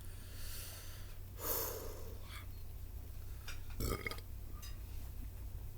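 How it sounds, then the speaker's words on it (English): Two throaty burps after eating jalapenos, one near the start and a louder one a couple of seconds later, close and otherwise quiet. "Jalapeno burps."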